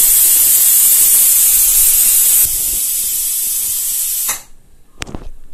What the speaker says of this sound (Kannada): ಇದು 1 ವಿಷಲ್ ಬಂತು.